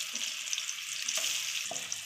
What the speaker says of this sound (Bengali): এখন আমি এটাকে ভাজবো, লাল করে ভাজবো